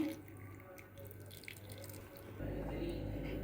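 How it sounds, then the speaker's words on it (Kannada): Tamarind juice is poured into an elephant foot yam curry on a home stove, a soft steady liquid trickle and drip over low background hum, growing slightly fuller toward the end. "ಇವಾಗನೇ ನೆಕ್ಸ್ಟು ಹುಣಸೆ ರಸ ಹಾಕ್ತಾಯಿದ್ದೀನಿ"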